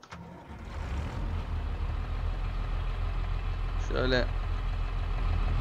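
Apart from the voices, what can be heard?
tractor engine starting and idling in Farming Simulator 22 video game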